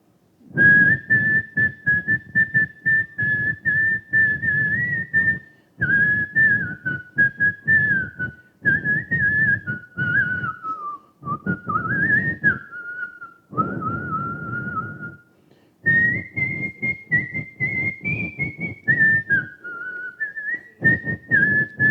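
A person whistles an old song tune, a clear melodic line in phrases broken by short pauses, close and loud with no other sound.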